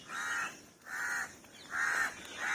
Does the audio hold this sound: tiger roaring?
no